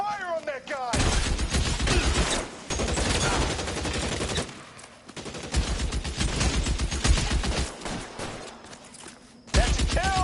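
Gunfire in the L.A. Noire video game, dense bursts of loud shots rattling almost continuously, with short gaps and shouted voices mixed among the shooting.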